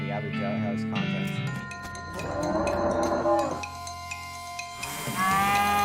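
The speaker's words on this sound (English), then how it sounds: "Guys, it's another cow." A cow lows in a drawn-out, wavering moo within a Wild West adventure game, close and prominent, with other game sounds and a voice speaking around it.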